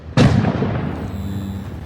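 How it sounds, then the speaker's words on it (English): A single loud explosion booms during a Nevada County wildfire, a sharp blast followed by a rumbling tail that fades over the next second. "Getting some large explosions going off"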